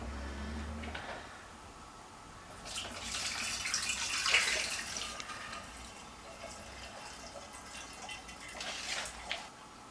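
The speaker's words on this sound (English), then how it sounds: "So it's just a matter of letting it drip in" Pumpkin juice drips from pressed pumpkin pulp into a bucket, a soft continuous trickle and patter that swells midway and again near the end, close by with no talk.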